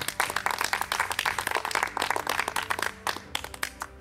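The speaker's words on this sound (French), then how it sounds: "on les applaudit" A crowd clapping steadily with dense, overlapping claps for about three seconds, then thinning out to a few scattered claps at the end.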